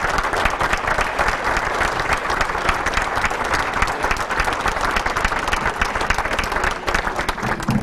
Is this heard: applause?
yes